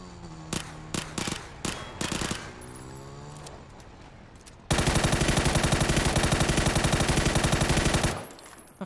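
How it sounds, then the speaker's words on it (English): Video game gunfire in PUBG on Xbox Series X starts as a handful of separate sharp shots and short bursts, then turns into a long, loud, sustained stream of automatic fire before cutting off abruptly. "I wish you'd stop shooting me, Larry."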